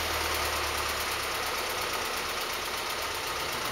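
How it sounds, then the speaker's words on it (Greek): A car engine idles steadily and close by, a constant low rumble and hum with faint knocking, no voices over it. "Κλείσε η μηχανή, κλείσε η μηχανή ρε."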